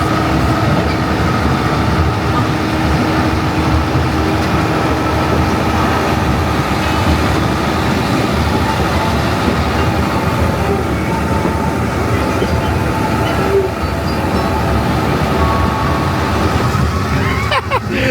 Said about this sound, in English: as we're making our way round here on this train